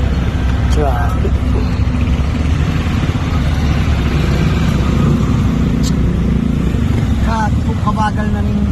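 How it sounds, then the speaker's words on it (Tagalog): Heavy road traffic of cars and trucks in Pampanga, Philippines, a steady close rumble of engines with occasional horn-like tones, and a person talking over it. "Traffic na sobra."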